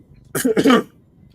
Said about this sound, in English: you clear your throat